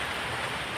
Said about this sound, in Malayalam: അയ്യോ മഴ വീണ്ടും മഴ